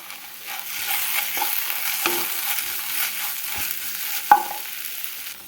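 Cauliflower fried rice being stirred in a pan after tomato sauce goes in, a soft continuous sizzle broken by scraping strokes of the spoon and one sharper knock, fairly quiet and with no voices.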